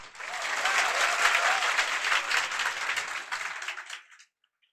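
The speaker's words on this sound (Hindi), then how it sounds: "चलिए, एक बार ताली बजा दीजिए।" A classroom audience at a civil-services coaching session breaks into loud, dense applause that holds for about four seconds and then stops abruptly.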